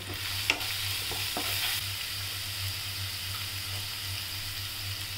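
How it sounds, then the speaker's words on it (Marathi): Beetroot bhaji being stirred in a pan after salt goes in, a faint steady sizzle with a low hum beneath and a couple of soft spoon scrapes near the start, no voices. "आता आपण मीठ टाकूया चवीनुसार आणि हलवून घेऊया"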